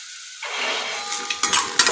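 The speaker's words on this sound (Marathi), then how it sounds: "यामध्ये आता आपण बारीक चिरलेला कांदा टाकूया।" Finely chopped onions, two of them, drop into hot oil and start to sizzle loudly, with a steady frying hiss and a few sharp stirring clinks against the pan near the end.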